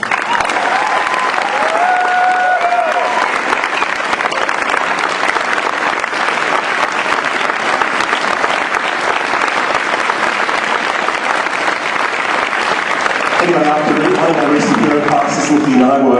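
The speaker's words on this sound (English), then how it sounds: "could I ask for a loud round of applause for the teachers, staff, helpers" Loud, sustained round of applause from a large crowd at a Ceroc dance anniversary ball, steady clapping filling the room for about thirteen seconds with whistles and cheers, then thinning as voices and laughter emerge near the end.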